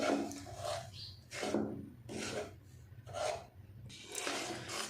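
Wheat flour dry-roasting in a pan over low heat for halwa, stirred in slow, rhythmic scraping strokes, about five rasping sweeps, close and soft.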